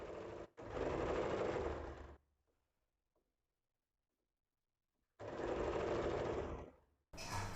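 A sewing machine stitches fabric for a nighty in two loud, close bursts of fast rattling, separated by a few seconds of near silence, with a third burst starting right at the end.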